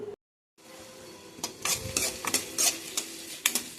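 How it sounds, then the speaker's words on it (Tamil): Onions sauté in a pan for a tomato kurma, with a soft sizzle broken by repeated scraping and clinking stirring strokes against the metal, close and fairly loud, after a brief silent gap at the start. "வெங்காயம் நல்லா வதங்கிட்டுங்க"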